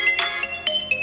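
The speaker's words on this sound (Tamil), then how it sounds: "எங்க அடிக்குதுன்னு பாரு. ரிங்டோன் வேற மாதிரி இருக்குது." Mobile phone ringtone chiming a short electronic melody of a few bright, clipped notes, close and clear with no voices over it.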